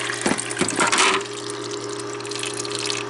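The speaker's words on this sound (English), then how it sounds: "you can see it's puking out water right now" A GEVI Nugget countertop ice maker drains: water gushes and splashes briefly, then settles into a steady trickling, draining flow with a low mechanical hum beneath it.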